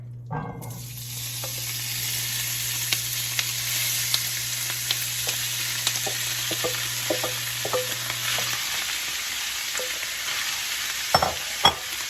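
Pork for sisig sizzles steadily in coconut oil, a bright continuous hiss with a low hum underneath, broken by a few scattered pops and clicks and a louder scrape near the end.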